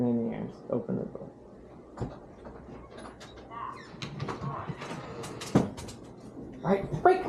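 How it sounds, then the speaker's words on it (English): A house door is opened during an at-home dog training lesson, with soft creaks and mechanical clicks mixed among rustling, footsteps and people talking to the dog. "And then you just open the door."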